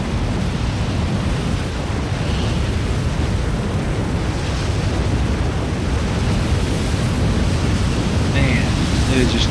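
Tornado roaring across a farm in Farming Simulator 25: a constant, loud, broad roaring rush of wind with no breaks, steady in level throughout, with faint higher crackles of debris near the end.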